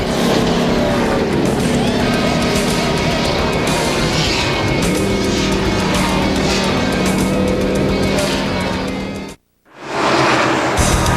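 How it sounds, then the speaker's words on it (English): Loud, continuous engine roar of NASCAR race cars speeding down the front stretch into turn one at Lowe's Motor Speedway during the 2002 UAW GM Quality 500, with a brief drop to near silence before the roar resumes. "as the cars zip along the front stretch and into turn one"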